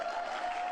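Audience applause at a Joe Biden speech, a brief steady wash of crowd clapping, fairly faint and at a distance, with no voice over it.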